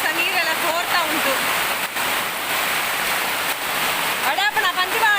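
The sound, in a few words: heavy rain water flooding and leaking inside house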